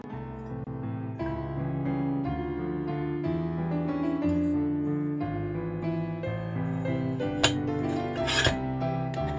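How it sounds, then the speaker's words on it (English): A Dremel rotary tool grinds off the end of a rusted screw on an old iron Christmas tree stand, a steady close whine with shifting pitch and a few sharp scraping bursts near the end. "show me how to use the Dremel to grind off the end of the screw so I could get the bolt off"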